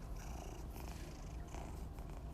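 A pet cat named Dylan purrs steadily and softly up close, a continuous low rumbling texture with no breaks and no other sounds.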